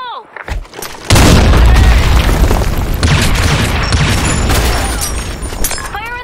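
A grenade explosion in a Battlefield-style shooter, a sudden loud boom followed by several seconds of rumbling debris and crackling gunfire, with a short radio-like voice at the start.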